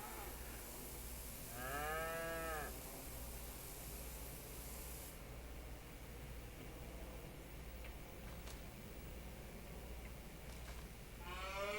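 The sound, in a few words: cows mooing loudly in Farming Simulator video game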